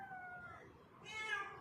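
Kittens meowing from inside a car's battery compartment, a couple of thin, faint high mews, quiet and slightly distant.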